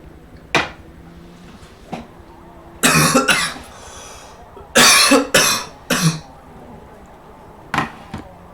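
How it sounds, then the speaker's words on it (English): A person coughs hard after coffee went down the wrong pipe, several loud, harsh bursts in uneven clusters with sharp throat clearing between, close and alone against a quiet room. "I had to hold the cough, swallow it all, and then cough"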